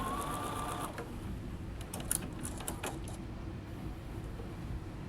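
A Bernina sewing machine with a number 63 foot stitches a rolled hem, a quiet, steady mechanical whir with a few light clicks and ticks.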